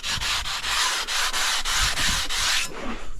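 Shower tile edge being chamfered with an angle grinder or abrasive, a close, harsh grinding rasp in repeated strokes about every quarter second, stopping near the end.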